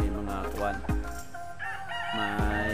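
Backyard chickens and fighting cocks on a Philippine farm crowing and clucking, several loud close calls in quick succession, with brief talk mixed in.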